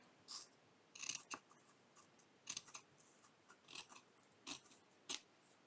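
Scissors trim paper for a handmade feminine journal in a series of quiet, close snips and cuts separated by short pauses.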